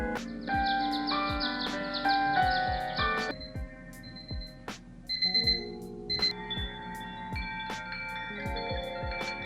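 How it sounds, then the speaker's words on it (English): A Dekala Arches smart light alarm clock plays a bright electronic alarm melody of chiming, bell-like tones repeating in phrases, loud and clear with short pauses between, and no voices. "You have your choice of 7 different alarm sounds"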